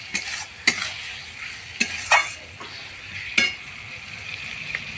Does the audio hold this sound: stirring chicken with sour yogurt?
yes